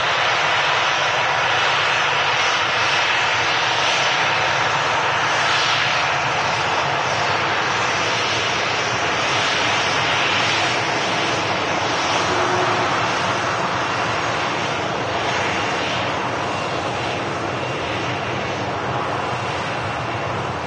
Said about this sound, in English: The smoothest landing on the Lauder A320.